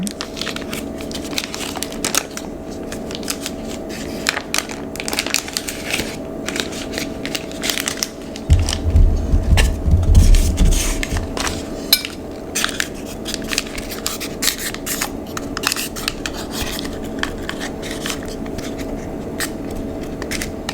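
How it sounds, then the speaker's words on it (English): Butter is smeared around a loaf pan in close, crisp scraping and crinkling strokes, with a denser, heavier rubbing stretch partway through, intimate and quiet. "I'm just going to grease my loaf pan that I'm going to be using here with some butter."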